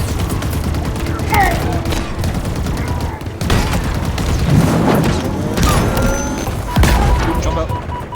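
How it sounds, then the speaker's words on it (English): A grenade blast in the Halo video game, loud and booming amid a dense barrage of gunfire and crashes, with a voice talking over the chaotic combat. "That's a grenade."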